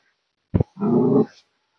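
A dog indoors gives a short sharp yelp, then after a brief pause a longer whimpering, growly whine lasting under a second, fairly close with no talk.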